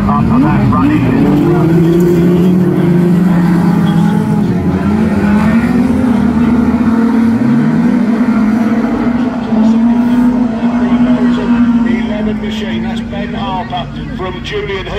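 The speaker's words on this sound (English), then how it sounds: "And engines lifted, and we are, Bungie goes, we are off racing with the fives as we take it down there" Class 5 racing machines roar off the start of a men's nationals race, engine notes rising and sweeping past loudly, one pitch gliding upward, while a commentator talks over them.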